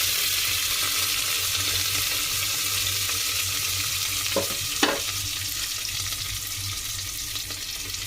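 Onions and green chillies fry in a pan of oil for palak dal, a constant bright sizzle with a couple of brief spatula scrapes midway, close and steady throughout.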